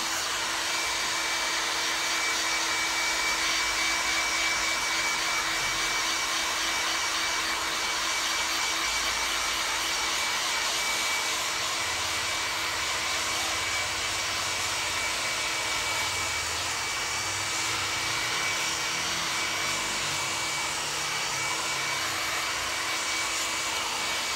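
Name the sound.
hairdryer drying dyed leather jacket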